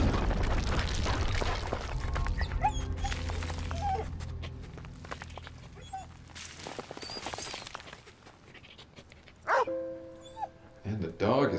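A companion dog in a World War I video game barks and whimpers with short yips and whines, partly under someone talking and thick game background noise.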